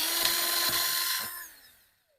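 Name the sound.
drilling with a small drill bit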